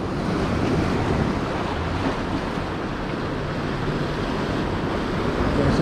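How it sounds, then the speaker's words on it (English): Rough sea surf churning and crashing against a jetty as the tide comes in on a cold day, a steady, loud, dense wash of water with wind noise and no break throughout. "The water's getting a lot rougher right now."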